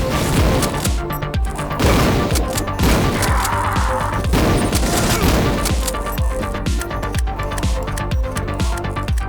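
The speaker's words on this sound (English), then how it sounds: "it's really satisfying when the shotgun decides to work and isn't wonky" Shotgun blasts in the Mace Griffin: Bounty Hunter video game ring out in rapid, repeated booms amid crashing impacts and mechanical clatter, loud and continuous throughout.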